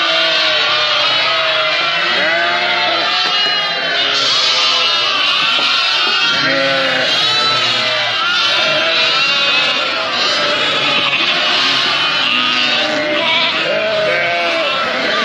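A flock of sheep and lambs bleats loudly and continuously, many overlapping calls close by without a break.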